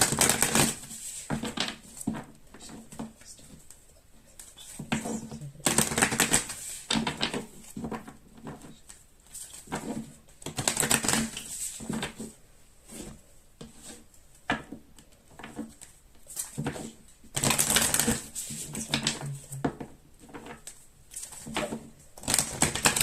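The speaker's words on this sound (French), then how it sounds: "je vais mélanger deux oracles que j'ai" A deck of oracle cards is shuffled by hand in repeated bursts of papery riffling and patter, close and quiet, with short pauses between rounds.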